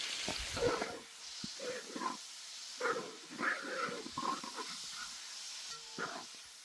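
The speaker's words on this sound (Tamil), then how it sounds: "இப்போ எண்ணெய் மிதமான சூட்டில் கோழிக்கறியை ஃபஸ்ட்டு சேர்த்துக்கிறோம். கோழிக்கறி இந்த எண்ணெயிலே நல்லா வதங்கி வரணும்." Chicken pieces frying in oil with turmeric and salt for a Coimbatore wedding-style dish, giving a continuous hissing sizzle with repeated bubbling, crackling bursts close by.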